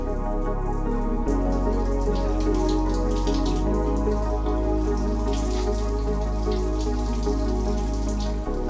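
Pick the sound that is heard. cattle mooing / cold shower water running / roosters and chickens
cold shower water running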